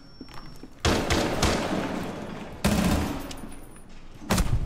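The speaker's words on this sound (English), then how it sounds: "Nice shot, Ambi!" Gunfire in the video game Rainbow Six Siege comes in three loud bursts of rapid shots, each one followed by a fading tail, with short quieter gaps between the bursts and no talking.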